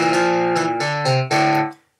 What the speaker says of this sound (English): I don't really like that distortion, so I'm going to take that off